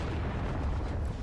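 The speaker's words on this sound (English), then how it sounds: "Big explosion." A large explosion from detonated explosives in Guild Wars 2, a continuous roaring blast with a deep rumble filling the whole moment, loud and close.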